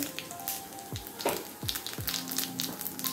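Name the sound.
mustard seeds crackling in hot oil for tempering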